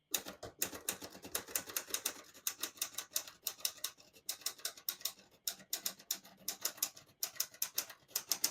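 Steady, fairly quiet typing on a 1962 Olivetti Lettera 22 portable typewriter with pica type, a run of sharp key strikes in uneven bursts with short pauses and no voice.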